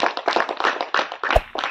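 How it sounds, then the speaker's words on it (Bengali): A quick burst of audience applause at a spin-the-wheel prize game, dense hand claps filling the short moment at close range with one sharper thump near the end. "হাততালি বন্ধুরা সবাই।"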